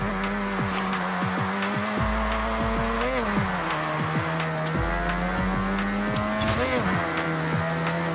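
A stock, untuned Mazda RX-8 engine runs in a racing video game, holding a steady rotary drone with brief rev blips, while tire squeals and other car noise sound around it.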